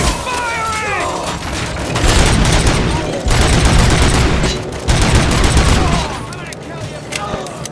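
Rapid gunfire from RoboCop: Rogue City fills a bank robbery shootout with police, with dense continuous bursts of shots that stay loud and close for several seconds.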